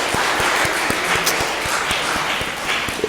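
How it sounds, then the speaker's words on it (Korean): A church congregation applauds the choir and instrumental ensemble with steady, moderately loud clapping, where individual sharp claps stand out against the general wash. "우리 찬양대와 앙상블로 함께 하신 분들에게 박수로 우리 한번 격려해 주십시오"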